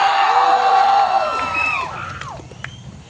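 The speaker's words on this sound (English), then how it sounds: "I think you have to do a big applause to all your teachers." Students cheering at a university placement celebration, a loud crowd roar of shouts and whoops that gradually fades, with voices carrying through the noise.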